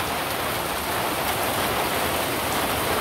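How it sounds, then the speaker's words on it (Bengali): Steady rain pouring down outdoors in rural Bangladesh, a continuous even hiss of heavy rainfall that is close and loud from start to finish, with no voices. "এখনকার বৃষ্টি এরকমই এখনকার বৃষ্টির কোনো নিশ্চয়তা নেই"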